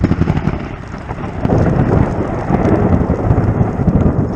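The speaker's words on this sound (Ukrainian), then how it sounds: "Грім це тільки звук." Thunder rumbles loudly during a Balkan thunderstorm while rain beats on a tent at a cycling campsite, a sustained heavy roar that swells about halfway through and continues with dense rain noise.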